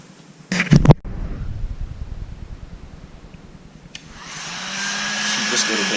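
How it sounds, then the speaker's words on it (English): A heat gun warms a decal on a Jeep Grand Cherokee SRT, its blower rising into a steady, close hiss after a few seconds of handling noise and thumps near the start. "these heat guns work magic with these decals"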